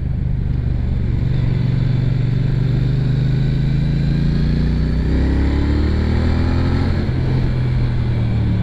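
Twin-cylinder engine of a Triumph Bonneville T120 motorcycle pulls hard on an interurban road, heard from onboard as a loud, steady throbbing drone whose pitch climbs through the rpm range, with a gear change partway.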